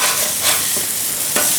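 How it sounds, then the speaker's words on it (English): Onions sizzling loudly on a Blackstone griddle for smash burgers, a dense continuous hiss with a few scraping spatula strokes, close and alone. "Look how that caramelization of those onions are happening."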